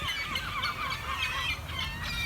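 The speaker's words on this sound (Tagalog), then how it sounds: "There's a lot of bird here. Duck and seagull." Ducks and seagulls at a bird park make a busy chorus of honking and squawking calls, overlapping and fairly close, with a constant crowd of birds sounding throughout.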